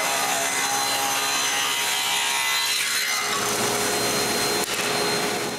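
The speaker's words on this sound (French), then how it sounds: "Il faut juste couper les bouts de bois qui vont s'insérer dans les rainures." Pieces of wood are cut to fit into grooves, a loud continuous rasping saw noise that changes character midway and carries on without pause, close up with no talking.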